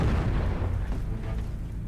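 A bomb explosion in a video game: a loud, deep booming rumble that fills the whole brief moment and decays only slightly, heavy low-end roar close up.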